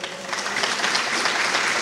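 Audience applause at a political speech in Tame, Arauca, a dense continuous wash of clapping from a crowd, steady and fairly loud throughout.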